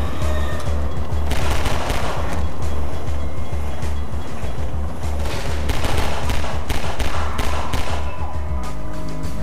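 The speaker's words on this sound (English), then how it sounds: "I can fire a gun a lot quicker than you can." Dense, rapid gunfire from the Half-Life 2 video game, loud sustained bursts of shots overlapping almost continuously, with no voices heard.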